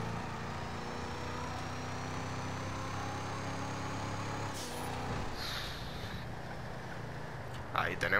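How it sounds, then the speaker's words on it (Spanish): Tuned Albany Roosevelt car in GTA V, its engine a steady low drone with harmonic layers and a faint high whine, holding constant before easing off near the end, with a brief rise at the close. "el sonido es brutal del carro así ya todo tuneado"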